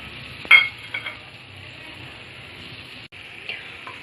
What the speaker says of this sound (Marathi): हे चांगलं आता मिक्स करून घ्यायचं आहे.